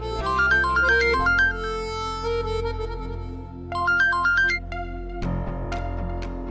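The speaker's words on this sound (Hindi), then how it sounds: "बार बार फोन आ रहा है" A melodic electronic ringtone plays a repeating chiming tune, looping twice before a different bright jingle starts, steady and fairly loud.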